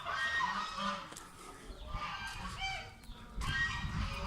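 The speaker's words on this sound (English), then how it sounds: "Baby chicken." Baby chickens peep and cluck in short, repeated calls at Buddhist temple grounds, fairly close, with some background rustle and movement between the bursts.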